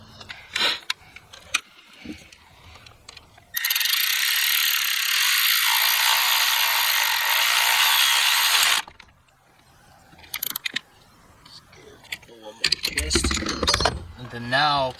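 Ratchet wrench turning a T30 Torx fastener on a Golf R during a turbo muffler delete, heard as a sustained run of fast, close clicking for several seconds, with short bursts of handling clatter and mechanical noise around it.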